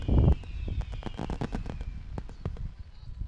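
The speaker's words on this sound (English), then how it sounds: "We'll still give her fireworks." Fireworks celebrating a play at a varsity high school softball senior game: a heavy boom at the start followed by a dense run of sharp crackling pops and bangs, moderately loud and outdoors.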